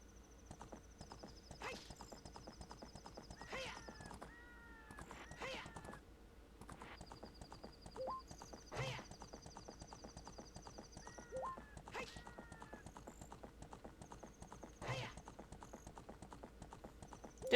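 Game horse sounds: steady hoof clip-clop throughout, with several short whinnies rising above it and occasional sharp clanks, moderately loud and close.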